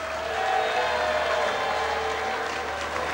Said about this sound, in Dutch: Geef hem nog met eenmaal een daverend applaus.